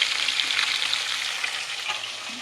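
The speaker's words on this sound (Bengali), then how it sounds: "হচ্ছে মাছ ভাজা" Fish sizzles as it fries in a pan of oil during home cooking, a steady close crackle heard alone.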